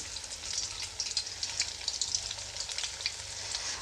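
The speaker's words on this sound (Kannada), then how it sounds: "ಎಣ್ಣೆ ಚೆನ್ನಾಗಿ ಕಾದಿದೆ ಇವಾಗ ಕಲಸಿರುವಂತಹ ಬ್ರೆಡ್ಡು ಮತ್ತು ಈರುಳ್ಳಿನ ಹಾಕ್ಕೊಳ್ತಾ ಇದ್ದೀನಿ" Bread and onion pakoda batter dropped into hot oil sizzles and crackles steadily, with dense bubbling and small popping bursts close up, no voices.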